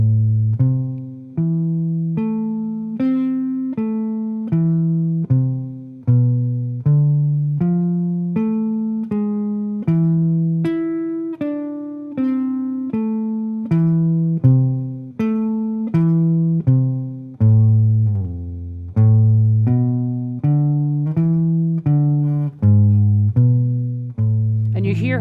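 A clean guitar plays steady arpeggiated single notes outlining jazz chord changes at a moderate, even pace, alone and clear for the whole stretch.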